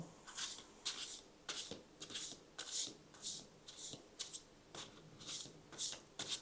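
Tarot cards being shuffled by hand: a quick series of soft, crisp riffling bursts in an uneven rhythm, close and quiet, with no talking.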